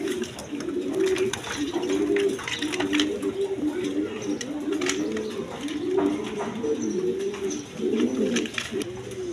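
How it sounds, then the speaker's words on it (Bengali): A pair of Danish pigeons coos steadily nearby, repeated low throaty rolling calls in a continuous rhythm with light rustling in the background and no talking. "এখানে এক পেয়ার ড্যানিশ কবুতর আছে"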